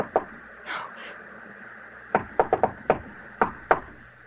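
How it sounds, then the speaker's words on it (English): Sharp knocks on a door, close and loud in a quiet room: one early rap, then a quick burst of about five raps and two more spaced knocks. "Someone knocked, Edith. Open the door."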